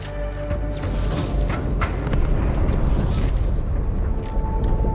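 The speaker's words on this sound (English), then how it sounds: "That explosion came from inside the Athens." A deep explosion rumbles inside the ship Athens in a Halo video game, a loud sustained booming roar with scattered crackling bursts that holds for several seconds.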